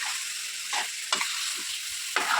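Eggs fry with turmeric in a pan, a soft continuous sizzle with a few brief spatula strokes and taps against the pan.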